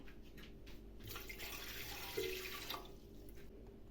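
Cold water poured for a dark homemade malt bread dough, a soft steady splashing stream that swells in the middle and tapers off, faint and close with no voices.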